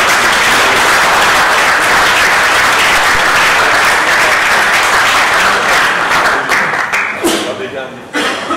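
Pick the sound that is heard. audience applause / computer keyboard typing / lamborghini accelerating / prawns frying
audience applause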